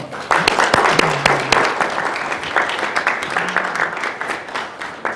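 A forum audience gives a round of applause at a plaque presentation ceremony, scattered sharp claps merging into steady clapping that carries on at moderate loudness, with faint voices underneath.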